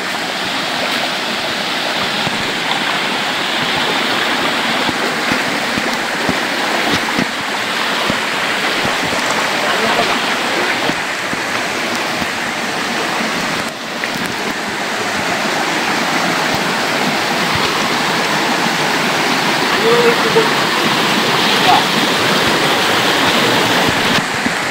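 A natural stream in a Konkan forest rushes steadily at close range, a loud, unbroken wash of flowing water with no voices over it.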